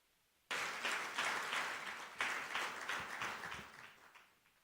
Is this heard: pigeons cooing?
no